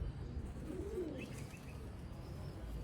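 Black-faced Sialkoti breeder pigeons on a rooftop loft give soft, low coos. They are faint and partly masked by a steady background hum, with no speech.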